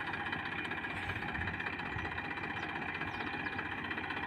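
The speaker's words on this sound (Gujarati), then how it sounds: "સામે આવ્યું ટ્રેક્ટર તો જોયું લો તમે ટ્રેક્ટર મિત્રો" A farm tractor's engine runs steadily nearby, a continuous low rumbling drone with a faint rattling vibration, unbroken and at an even level throughout.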